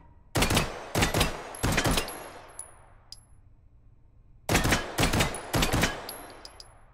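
Gunshots in the VR game Hot Dogs, Horseshoes & Hand Grenades, a quick burst of three sharp shots with metallic clinks of ejected casings, a pause, then another burst of three, fairly close.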